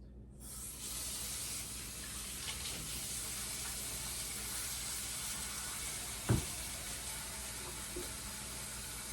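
Tap water running steadily for handwashing after handling raw meat, a constant close hiss of the stream with one brief knock partway through.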